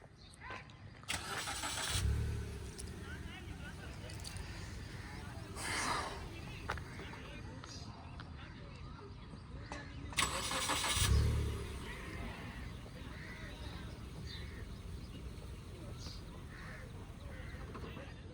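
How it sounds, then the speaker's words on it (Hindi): A learner driver's car stalls during a low-speed practice manoeuvre while the brake is held, with engine rumble and a few sharp bursts as it cuts out and restarts, under an instructor's ongoing talk. "ब्रेक छोड़ नहीं रही इसलिए इंजन ही बुझ जा रहा है"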